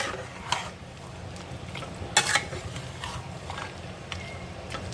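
Mutton stirred and mixed with a metal spatula in a cooking pan: soft scraping and clinking strokes at irregular intervals, one sharper scrape near the middle, over a faint low sizzle, with no talk.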